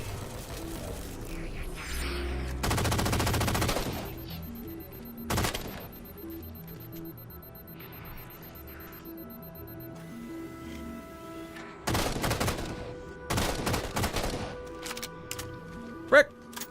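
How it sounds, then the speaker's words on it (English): Battle rifle fire in Halo 4, heard as bursts of sharp shots that recur through the stretch alongside mechanical clicks and other game sounds, loud and close. "Why does the battle rifle sound so bad?"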